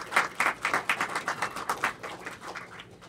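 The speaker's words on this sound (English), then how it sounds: "give them a round of applause" Scattered audience clapping at a library's 100th birthday party, distinct individual claps in an uneven rhythm that thin out toward the end, fairly close and without talk.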